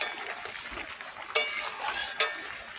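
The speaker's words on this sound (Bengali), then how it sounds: "এই ছোট পাকায় তেলের মধ্যে রান্না হচ্ছে" Food sizzles and fries in oil in a small pan on a home veranda, with steady crackling, a soft stirring scrape throughout and two sharp utensil clinks against the pan.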